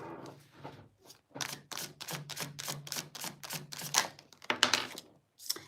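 A deck of angel oracle cards is shuffled by hand in a rapid run of crisp, papery riffle clicks, fairly close and steady, with brief pauses, and no talking.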